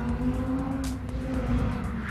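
A race car runs at full throttle on a driving-course final, its engine a dense continuous roar with a steady low drone and faint tire noise, loud and close throughout with no talk.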